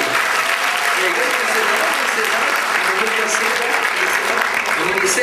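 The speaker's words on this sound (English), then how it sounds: "Give him a massive round of applause." Loud, sustained applause from a theatre audience at a hypnosis stage show in Dubai, a dense, steady wash of clapping that fills the whole stretch without a break.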